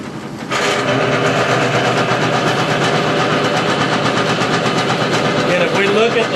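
Harsh, steady mechanical whine and grinding buzz from a Falex lubricant test machine running toward lubrication failure, loud and continuous after a brief quieter start, with a rising squeal near the end.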